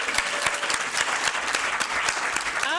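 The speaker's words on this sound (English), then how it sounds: "So let's bring another round of applause for Kelvin Boston." At an awards reception, a crowd gives a round of applause for Kelvin Boston, with a full, sustained clatter of many hands clapping, loud and steady from start to finish, no voices heard.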